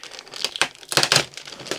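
A plastic bag taped to the back of a Samsung LED TV crinkles in bursts as it is handled, close and crisp, with no talk.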